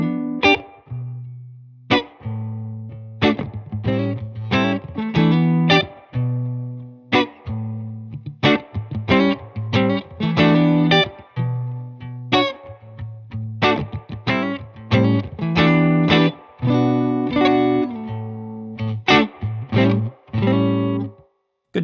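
A clean electric guitar, a Seüf OH-19 played through a reverb amp, plays a series of picked chords and single notes on the neck pickup, each ringing out with a reverb tail between short pauses.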